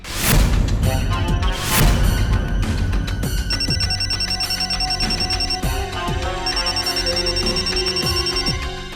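A telephone bell rings repeatedly with bright, steady electronic tones, loud and close, continuing throughout without pause.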